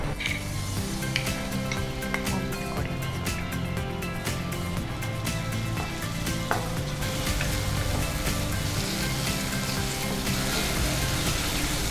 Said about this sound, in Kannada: ನಾವು ಫಸ್ಟು ಈರುಳ್ಳಿ ಬಿಸಿ ಮಾಡ್ಕೊಳ್ಳೋಣ. ಓಕೆ, ಸ್ವಲ್ಪ ಎಣ್ಣೆ ಹಾಕಿ ಸಣ್ಣದಾಗಿ ಹೆಚ್ಚಿರುವಂಥದ್ದು ಒಂದು ಈರುಳ್ಳಿ ಕಟ್